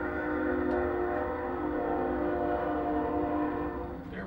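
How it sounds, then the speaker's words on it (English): A train rolls past at Tehachapi, its loud horn sounding in a sustained blast over the steady rumble of the rail cars, close and continuous throughout. "Wait for the train."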